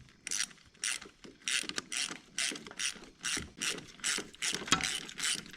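A hand ratchet turning out an old spark plug on a BMW M6 engine, about ten rapid clicking bursts in a steady back-and-forth rhythm, close and clear with no talk.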